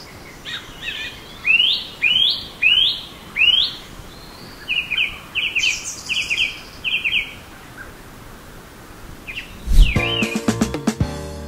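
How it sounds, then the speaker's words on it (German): Outdoor birdsong in the Rhine countryside: a bird repeats a series of clear rising whistled phrases, then a quicker run of shorter notes, fairly close over a quiet background, before a sharper chattering burst near the end. "Und jetzt bin ich still und höre noch ein wenig den Vögeln zu."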